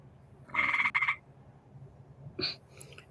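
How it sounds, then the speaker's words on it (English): A tree frog gives a loud, buzzy chirping call, followed by a shorter, fainter chirp after a pause, over a quiet background. "You hear that chirping? That is a frog."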